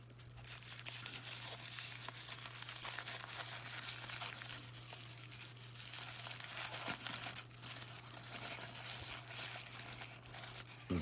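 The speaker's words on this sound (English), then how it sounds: "It's wrapped in like a tissue paper type thing." Tissue paper crinkling and rustling steadily as a Grimlock MP-8 Masterpiece toy is unwrapped, soft and close with a constant low hum underneath.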